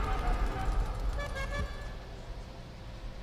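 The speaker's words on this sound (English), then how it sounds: "How do I honk the horn?" Car horn honking in the Car Stealers Online video game, a couple of short tonal toots over a steady engine and road rumble.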